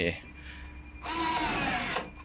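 A power tool briefly tightening a bolt while fitting an LED reverse light, one short loud whirring burst of about a second after a quiet pause.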